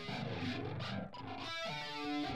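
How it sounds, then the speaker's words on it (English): Electric guitar intro made of noisy scratches across the strings and the crackle of a cable being plugged in, followed by brief ringing notes, short, close and rough. "we added this intro with the guitar."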